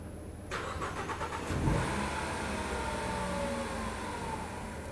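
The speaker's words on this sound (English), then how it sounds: "Let's see what happens when we start the car." A car engine cranks briefly with a rapid rhythmic churn, then catches and settles into a steady running hum.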